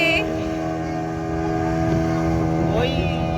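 A passenger boat speeding across Getalsud dam lake near Ranchi gives a steady, tonal engine drone throughout, with a rising whine near the end over a wash of water and wind.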